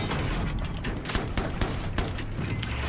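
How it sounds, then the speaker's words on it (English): Gunfire in Battlefield 3 raking buildings, a dense continuous fusillade of rapid shots and booms filling the whole stretch, loud and steady. "And I'm just shooting at buildings."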